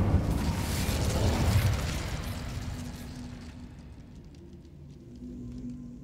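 Incendio fire spell cast in Hogwarts Legacy, a loud rushing burst of flame with a deep rumble that swells over the first two seconds, then fades into a low lingering hum.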